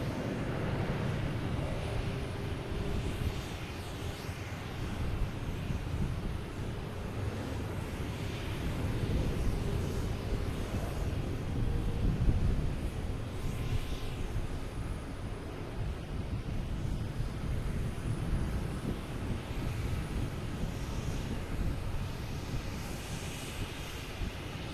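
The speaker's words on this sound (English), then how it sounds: "We have Delta, an A321, heading to Atlanta, flight" A Delta Airbus A321 at Boston Logan Airport gives a steady, broad jet roar that holds at moderate loudness throughout, swelling slightly near the middle with no voices present.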